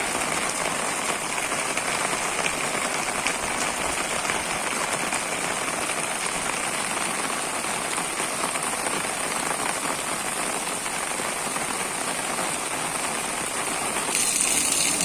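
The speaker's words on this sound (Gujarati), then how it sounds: "ધીમી ધારે વરસાદ જે વરસી રહ્યો છે" Light rain falls steadily on surfaces in Jetpur town, Rajkot district, making an even, unbroken hiss of drops that fills the whole stretch with no voices.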